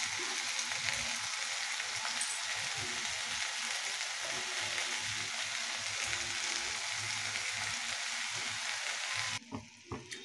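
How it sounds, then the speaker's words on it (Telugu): Skinless chicken pieces fry in hot oil in a pan, giving a steady, dense sizzle that stops abruptly near the end, followed by a couple of faint handling knocks. "రెండు 3 నిమిషాలు ఇలా ఆయిల్లోనే మగ్గాలి"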